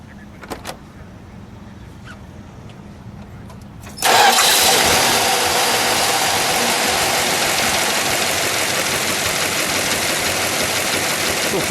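A few faint clicks, then a 1963 Dodge Polara Convertible engine cranks and catches abruptly, settling into a steady, loud idle that continues to the end.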